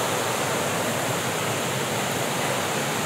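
Chet Sao Noi waterfall in Muak Lek, Saraburi, roars in a dense unbroken rush of falling water, loud and close with no other sounds.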